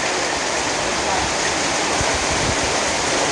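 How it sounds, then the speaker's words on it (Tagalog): Floodwater rushes steadily after light rain on a flooded street, a loud, continuous broadband roar like a stream or waterfall, close by and unbroken throughout. "Dito guys, baha na."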